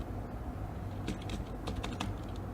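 Typing on a computer keyboard, a few quick soft key clicks in short irregular bursts over a low steady hum, fairly faint and without talk.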